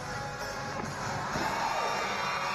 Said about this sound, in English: Look at this team cheer her on